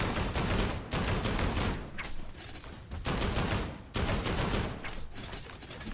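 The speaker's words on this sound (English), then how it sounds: "Oh, these guns are powerful with that 8 grip, let me tell you." Powerful guns fired in the VR video game Hellsweeper, loud rapid bursts of gunfire in several volleys separated by short pauses, close and dense with no talking.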